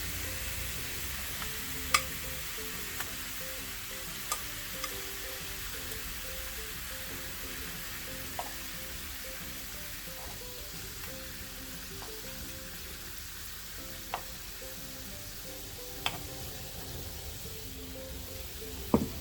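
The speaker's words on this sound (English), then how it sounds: "And I'm going to saute it a little. Cover it well in the sauce." Salmon sautés in teriyaki sauce of soy sauce and sugar in a pan, making a soft, steady sizzle with scattered pops and clicks throughout, fairly quiet and close.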